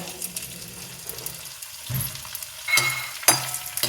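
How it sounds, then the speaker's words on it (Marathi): Edible gum pieces frying in hot ghee for wheat flour ladoos, a steady sizzle with bubbling crackle, a few louder splashes and stirring clinks near the end. "आणि डिंक तळून घ्यायचं आहे."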